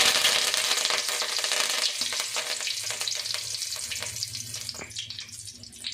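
Curry leaves crackle and sizzle loudly in hot oil for a Tamil egg curry, a dense steady hiss with small pops that eases slightly toward the end.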